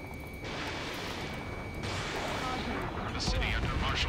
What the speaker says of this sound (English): Gunfire and a roar of jets echoing through the streets.